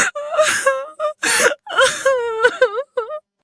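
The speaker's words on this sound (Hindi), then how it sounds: "ये रोने की आवाज कहाँ से आ रही है?" Cartoon ghost woman in a Hindi horror story crying at night in a forest, a voice performing sobbing whimpers and wailing moans in several short bursts, close and clear with nothing else behind it.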